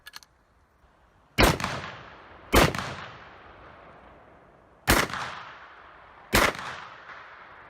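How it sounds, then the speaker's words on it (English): A Violin rifle firing four sharp, loud shots spaced a second or two apart, each bang trailing off into a short echoing decay, with no talking. "This is the Violin rifle."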